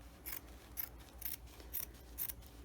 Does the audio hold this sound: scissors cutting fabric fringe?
yes